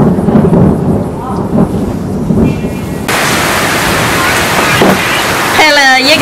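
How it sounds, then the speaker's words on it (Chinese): A thunderstorm in rural northern Shaanxi brings steady, loud rain with a deep rumble of thunder, a continuous wash of noise that briefly swells. A voice speaks near the end. "今天终于下一点雷阵雨，感觉下雨真好。"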